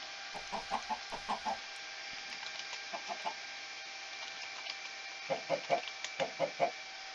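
Video game chickens clucking in short, evenly spaced bursts of soft clucks, quiet and close over a faint steady hum, with pauses between the groups.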